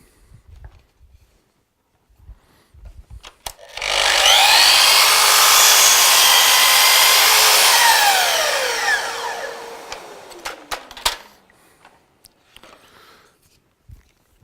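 A Festool KS 120 mitre saw fitted with an AB-KA-UG/2 angle support starts up and cuts through wood: a loud, steady whine swelling for about six seconds, then spinning down, with clunks and handling noises before and after.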